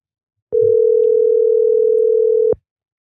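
A single steady telephone tone rings out loud and clean for about two seconds, then cuts off abruptly, with only faint background murmur around it and no clear speech.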